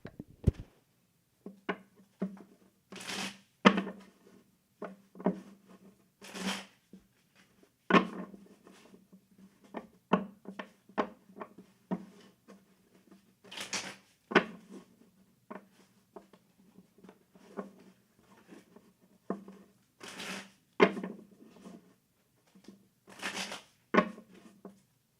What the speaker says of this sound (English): we're gonna shuffle my tarot again